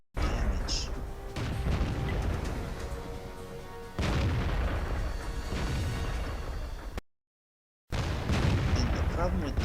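Artillery firing in a tank battle game, with heavy booming shots and rumbling impacts. Each blast is followed by a long decaying roar, a brief silent gap interrupts near the end, and someone talks over it.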